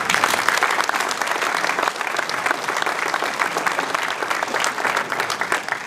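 Applause from a crowd at a mayor's New Year address, steady clapping that fills the room for several seconds without letting up.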